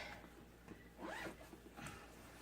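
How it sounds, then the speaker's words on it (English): A handbag zipper drawn closed in one quick pull, close and faint, with soft fabric rustle around it. "I'm going to zip it up"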